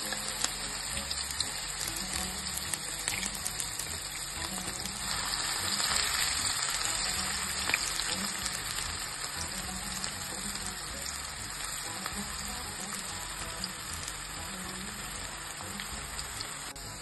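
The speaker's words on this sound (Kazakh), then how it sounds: "Табамызға майымызды құйып, жуамызды қуырамыз" Onions frying in oil in a pan, giving a steady, dense sizzle and crackle that holds evenly throughout, with no voices over it.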